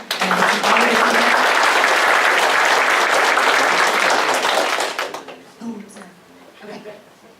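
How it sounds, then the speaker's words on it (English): An audience at a candidates forum applauds, dense sustained clapping for about five seconds that then fades out as a voice begins speaking. "I honestly believe that you should give everyone at this table a round of applause for stepping up."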